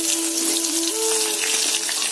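Pointed gourd fries in a hot pan with a loud, even sizzle throughout, a faint tonal hum running underneath; no talking.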